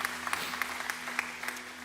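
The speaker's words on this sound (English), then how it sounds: "So give yourselves a round of applause." An audience claps in a continuous patter of many hands, moderately loud and close, lasting under two seconds over a low steady hum.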